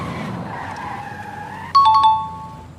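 A Koenigsegg Jesko hypercar brakes hard in a braking test. A fading engine drone gives way to a sudden sharp tire squeal near the end, loud and close.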